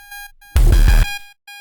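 A glitchy synthetic ring built for heavy experimental sound design, a short burst of distorted, gated tone flanked by faint beeping repeats from a delay, loud and abrupt, with no voices.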